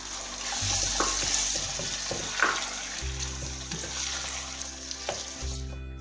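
Peas and potatoes sizzle steadily in a hot pan for a vegetable biryani while a spoon stirs them, with a constant close frying hiss, scraping strokes, and a low hum underneath.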